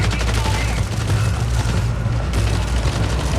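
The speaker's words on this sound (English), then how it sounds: "Did I just hear a gunshot?" Gunfire in the video game Marathon, a loud, dense barrage of rapid shots and booming impacts running continuously without pause.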